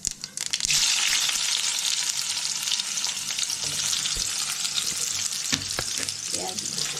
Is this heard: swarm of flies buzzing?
no